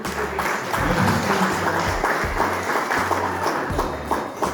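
An audience at an official gift-presentation ceremony claps together in a steady, fairly close round of applause, with a low rhythmic thumping beneath the claps.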